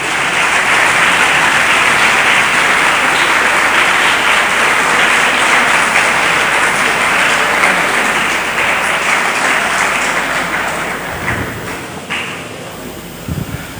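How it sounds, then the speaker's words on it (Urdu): A hall full of college students breaks into loud, sustained applause that fills the room evenly, then gradually thins and tapers near the end, with no voices heard. "بھرپور تالیوں میں پلیز"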